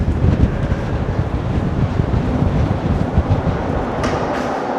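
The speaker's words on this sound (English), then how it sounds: "All of a sudden, it is extremely windy." Strong wind buffets the microphone on a Toronto city street, a steady loud roar with gusting rumble throughout and no voices.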